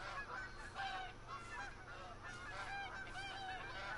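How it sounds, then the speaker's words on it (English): A flock of geese honks in the Call of the Wild hunting video game, with many overlapping calls forming a steady, dense chorus that continues through the whole moment. "Man, there's so many geese up in here."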